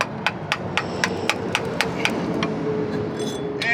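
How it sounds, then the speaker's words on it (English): A hammer striking a chisel to chip inch-thick caked dirt off a Mack R Model truck, about ten sharp metallic clinks in a steady rhythm, close by, then fading into brief scraping. "I got a hammer and chisel to get this off."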